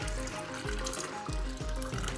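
Liquid gelatin mixture pours into a plastic icing bucket as a steady, full splashing stream with a rhythmic low gulping pulse, close and loud throughout.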